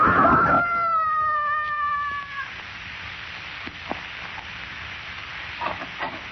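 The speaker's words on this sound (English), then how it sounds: "I heard a scream" A man screams as he falls from a height in a radio drama, a loud, high wavering cry at the start that fades out, followed by quiet scattered background sounds.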